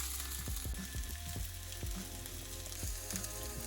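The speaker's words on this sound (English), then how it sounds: "First you add the shallots. Just lightly toss it." Chopped shallots sizzle steadily in a tablespoon of hot oil in a pan, with soft clicks and scrapes as they are lightly tossed, a continuous frying hiss without talk.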